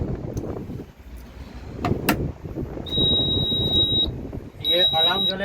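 A tower crane's load moment limit switch alarm sounds as a high, steady electronic beep in two long tones, the second followed by quick pulses, heard over someone talking and low machinery noise.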